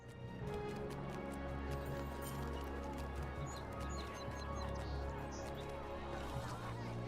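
Horse hooves clip-clop in the Lord of the Rings Online video game, a steady rhythmic trot heard over a dense, constant layer of game music and ambience.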